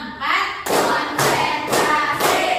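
Children in a classroom clap together in a counting clap game, a sequence of loud, sharp group claps in a steady rhythm with short gaps between each burst.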